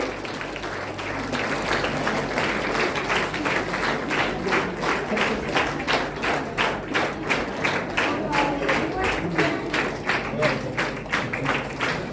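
An audience at a Karnataka State Women's Commission meeting with women employees claps in rhythmic unison to welcome guests to the stage. The beat is steady, roughly two claps per second, and holds loud and even for about twelve seconds.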